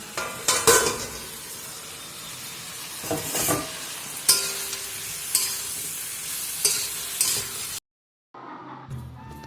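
Cauliflower and potato curry cooking in a pan, with repeated bursts of stirring and scraping over a steady sizzle, then a brief silence before faint kitchen sounds resume.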